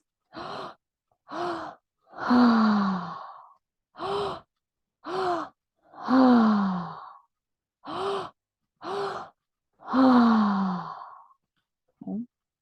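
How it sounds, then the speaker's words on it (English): Open-mouth breathwork, breathing into the belly and then the heart: a close series of sharp, rhythmic inhales and long sighing exhales through the mouth, alternating quick gasps with drawn-out releases, with no talking. "It's all open mouth breathing."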